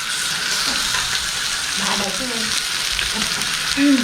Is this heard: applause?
no